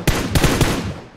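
A short, loud burst of automatic gunfire from PUBG Mobile, roughly three or four quick close shots fading into a brief echoing tail, with no voices.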